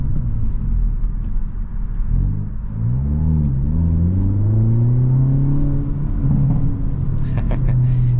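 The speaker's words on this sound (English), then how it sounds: "Pops and crackles from the exhaust are just amazing." A 2023 Hyundai Elantra N with a six-speed manual accelerates, its engine note climbing loudly through the revs, with a few sharp exhaust crackles near the end.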